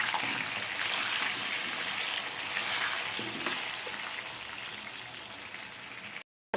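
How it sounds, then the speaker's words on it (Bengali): Potato pieces fry in hot oil with a little salt, giving a steady, soft sizzle and crackle throughout before cutting to silence at the very end. "নুন দিয়ে ভেজে নিচ্ছি আলুটাকে ভালো করে একটু"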